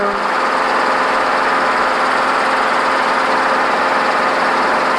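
A helicopter engine runs steadily loud and close as rotor RPM increases, a dense continuous turbine whine and drone with no pauses, recorded from inside the cockpit at night.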